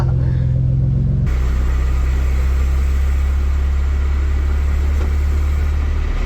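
A Nissan 300ZX car engine idles with a steady low rumble, briefly lower before a jump to a fuller, louder drone that holds evenly throughout.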